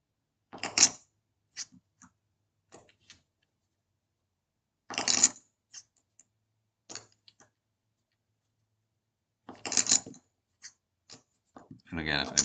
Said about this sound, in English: what the constant tapping or whatever is, it's been trying to learn how to shuffle poker chips